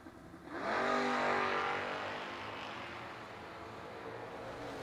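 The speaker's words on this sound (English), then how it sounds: "a good old-fashioned clean drag race going down the racetrack" Footbrake drag race cars launching and running down the racetrack, a sudden loud engine roar that rises and then slowly fades as the cars pull away into the distance.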